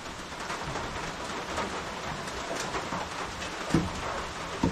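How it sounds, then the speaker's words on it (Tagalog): Steady rain falls in a dense, even hiss throughout, close and moderately loud, with a couple of brief low knocks near the end. "Maulan mga kautol eh, talagang maulan po."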